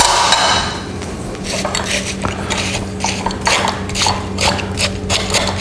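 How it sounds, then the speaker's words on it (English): Watermelon is pressed and scraped through a metal strainer in a kitchen, giving repeated rhythmic scratching and clinking strokes, close and fairly loud, with a faint steady hum underneath. "we're going to take some of this watermelon, and we're going to run it through this strainer"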